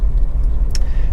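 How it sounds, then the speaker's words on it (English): A 2010 Honda CR-V 2.0 i-VTEC ES five-door on a road test, giving a steady low engine and road rumble from inside the cabin, with a brief faint higher rustle near the end. "this is a road test video, and this is for a Honda Cr-V 2-litre ES"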